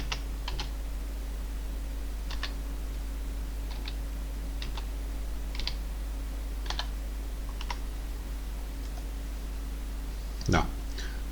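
Keys on a computer keyboard are tapped in short bursts of a few clicks each, spaced about a second apart, as a code is entered. The typing is close and clear over a low steady hum, with a brief thump near the end.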